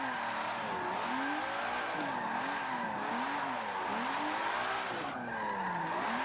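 A car drifting in Forza Motorsport 7 squeals its tires in a long, continuous skid whose pitch wavers up and down through the slide, backed by a steady engine drone.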